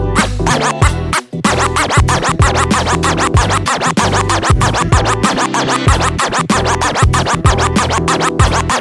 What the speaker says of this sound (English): Make sure you are scratching even when the fader is closed.